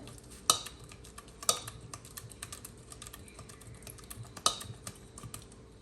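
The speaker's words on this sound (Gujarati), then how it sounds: "તો આઈસની મદદથી આપણે ઘીને ફેટીએ. કોન્સ્ટન્ટ એને હલાવતા રહેવાનું છે." Ghee being whisked over ice in a bowl with constant stirring, producing sharp scraping clicks and ticks of a utensil against the vessel, a few louder strikes standing out over a steady faint rattle, with no talk.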